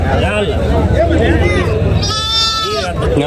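A goat bleats loudly with a wavering cry partway through, amid busy chatter and overlapping voices of people talking nearby.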